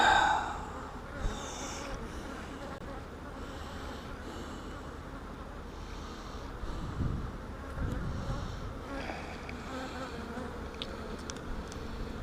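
Honeybees hum in an opened hive during an inspection, a soft continuous buzz with occasional louder passes as individual bees fly near, and a few faint breathy sounds.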